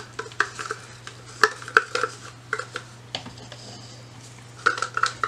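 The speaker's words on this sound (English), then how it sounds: "All right, I'm giving it one more stir." Acrylic paint mixed with silicone being stirred in a cup, with soft scraping and a series of light clinks and taps of the stirrer against the cup over a low steady hum.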